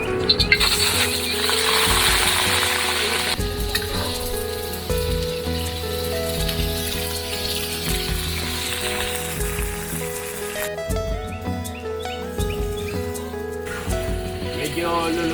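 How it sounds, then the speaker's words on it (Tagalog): Chicken liver and lomi toppings frying in oil in a hot pan, a steady close crackling sizzle running throughout with scattered pops, under a busy background of voices and clatter. "Prito muna natin yung mga ating pang toppings."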